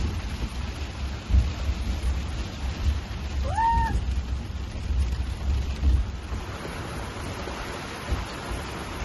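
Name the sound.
rain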